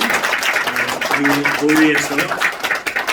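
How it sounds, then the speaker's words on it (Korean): Crowd applause at a church founding service for a Presbyterian congregation, a dense steady patter of clapping running under a voice speaking throughout. "박수 한번 힘차게 주세요"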